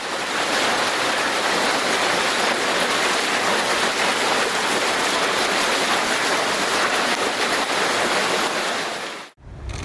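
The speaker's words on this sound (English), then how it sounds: "Turns out that during a heavy hailstorm, the pool feels more like a jacuzzi." Heavy hail pounds the surface of a swimming pool, a loud, dense, continuous roar of splashing impacts that holds steady and then cuts off abruptly at the end.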